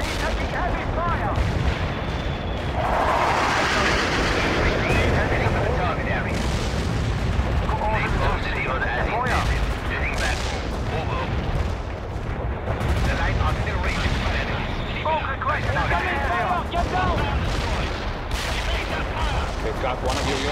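Dense, continuous battlefield din of artillery booms and gunfire rumbling throughout the real-time strategy game World in Conflict, with radio-style voices calling out over the constant barrage.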